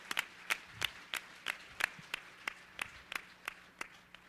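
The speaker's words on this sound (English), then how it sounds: "A round of applause." At a PAX 2010 gaming expo event, quiet applause for voice actor John St. John comes as a steady, evenly spaced run of individual claps, fairly distant and alone.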